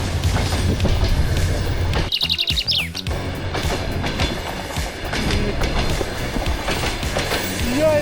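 A train rumbles past loudly and continuously, close by in the Carpathian mountains near Hoverla, with a brief flurry of bird chirps cutting in partway through.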